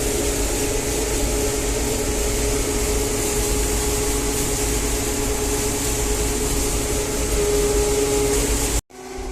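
John Deere 952 combine harvester threshing winter wheat in the field: a loud, continuous mechanical drone with steady whirring, heard close from the machine, cutting off abruptly near the end.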